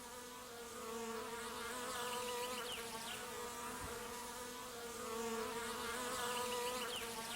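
Honeybees buzz steadily in a dense, continuous drone, fairly quiet, with no voices.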